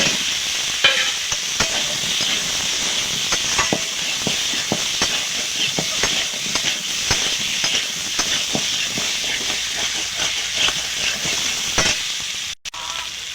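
Potato pieces sizzle in hot oil with fried onion, garlic, ginger and chopped tomato. The frying stays loud and continuous, with repeated stirring scrapes and knocks, and a brief thump near the end.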